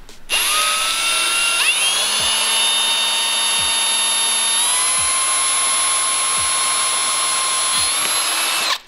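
Power drill whining at high pitch while drilling through soft aluminum exhaust headers, a sustained close loud buzz with shifting tone as the bit bites and breaks through, with no speech.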